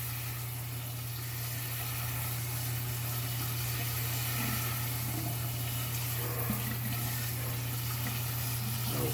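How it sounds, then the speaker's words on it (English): Cold tap water runs steadily into a kitchen sink over cooked green beans, a constant broadband wash with a low mechanical hum underneath, even and unbroken throughout. "I'm going to stop the cooking process with cold water."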